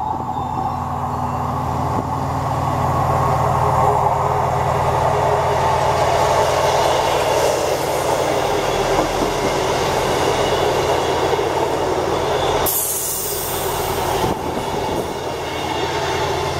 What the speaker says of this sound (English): Now coming in is a double 158 service to Glenrothes.